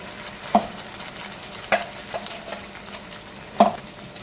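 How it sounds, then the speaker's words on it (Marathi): Spoon scraping through gravy for restaurant-style paneer cashew masala in a pan, three or four distinct scrapes and taps spaced over a soft low simmer, close and fairly quiet. "याला व्यवस्थित हलवून घ्या"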